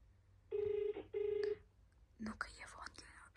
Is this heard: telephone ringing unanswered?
yes